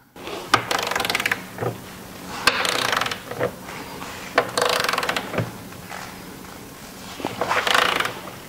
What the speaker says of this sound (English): Torquing the axle to 93 foot-pounds